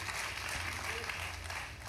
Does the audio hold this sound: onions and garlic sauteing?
no